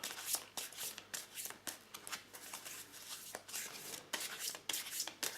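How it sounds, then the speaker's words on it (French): Tarot cards are shuffled by hand, a run of crisp, riffling flutters and soft slaps repeating in quick irregular bursts, close and fairly quiet, with no talk. "on va tirer encore 2 cartes pour voir si on peut en savoir plus"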